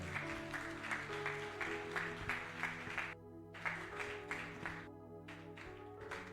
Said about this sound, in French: nous l'accueillons avec nos acclamations